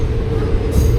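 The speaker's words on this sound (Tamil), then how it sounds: "ட்ரெயின் தாம்பரத்துலேருந்து கிளம்பி போயிட்டு இருக்குது கைஸ்." A passenger train pulls away from Tambaram station, heard from on board as a loud, steady rumble with a brief rising wheel squeal near the end.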